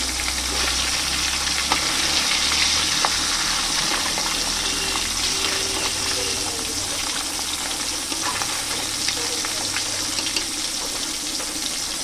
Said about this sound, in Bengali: ফাইনালি আমার তেল গরম হয়ে গেছে এবার আমি মাছ ভেজে নেব